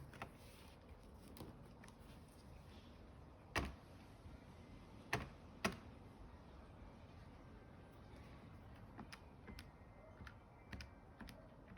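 Quiet, sparse keystrokes on a computer keyboard as numbers are entered, with scattered soft taps and a few sharper clicks against a faint background hum.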